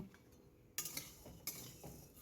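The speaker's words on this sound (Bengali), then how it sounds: "কড়াইতে নেড়ে আমি এটাকে ড্রাই রোস্ট করে নেব।" Dry vermicelli being stirred in a dry wok with a metal spatula, faint scraping and a few sharp clinks of metal against the pan in a quiet kitchen.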